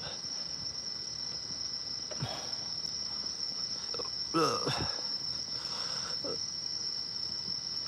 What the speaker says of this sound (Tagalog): ganito kuliglig lang yung naririnig ko